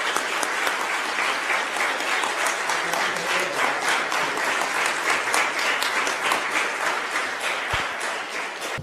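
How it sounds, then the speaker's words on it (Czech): A church congregation at a confirmation service applauds the bishop, sustained and fairly loud, with many hands clapping together and the rhythm sometimes turning into brief unison beats. "a tak tomu také velký potlesk, pochopitelně"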